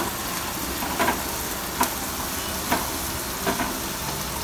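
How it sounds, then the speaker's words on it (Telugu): Ginger garlic paste frying with chicken in a home kitchen pan gives a steady, loud sizzle, broken by a few soft scraping clunks as the mixture is stirred. "అల్లం వెల్లుల్లి పేస్ట్ పోయిన కొద్దిగా వేసి ఒకసారి మిక్స్ చేసి"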